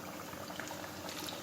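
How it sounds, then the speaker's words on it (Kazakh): Chebureki fry in heated oil, giving a quiet, steady crackling sizzle with tiny scattered pops throughout. "Майым қызды, енді чебуректерді салам."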